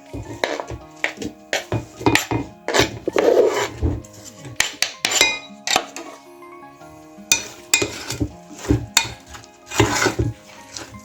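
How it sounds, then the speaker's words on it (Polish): Chopped apples are stirred into thick pancake batter in a bowl, with a utensil clinking and scraping against the sides in repeated, uneven strokes, loud and close, with no talking. "Dodajemy jabłka i mieszamy"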